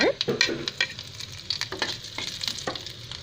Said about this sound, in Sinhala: තෙල් ටික රත් වීගෙන එනකොට ඒකට කරපිංචා සූදුරු දාන්න